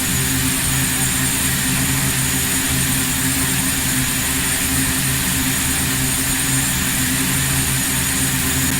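Steady, loud aircraft engine drone as an airliner climbs out of Aberdeen in Microsoft Flight Simulator X, a continuous hum with constant tonal lines and no speech.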